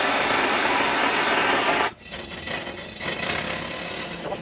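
Heated paint being scraped off a vintage McClary's cast iron kettle with a metal scraper: a steady, loud rasping scrape that cuts off abruptly partway, then continues as a fainter, rougher scraping.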